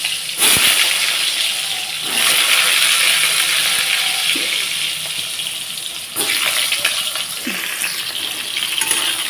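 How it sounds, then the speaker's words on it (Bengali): Pointed gourd pieces fry in hot oil with a loud, continuous crackling sizzle, broken by occasional clatters and scrapes of a utensil, close and without talk. "পটলগুলো এরকম সুন্দর করে লাল লাল করে আমি ভেজে নিচ্ছি।"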